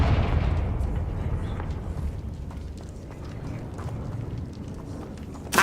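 A Confringo blasting spell explodes in Hogwarts Legacy, a loud deep booming blast with a long rumbling decay that fills the whole clip, with a sharp new burst at the very end.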